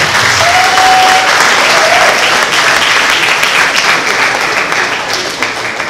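A college audience gives a loud, dense round of applause that holds steady for several seconds, then begins to taper.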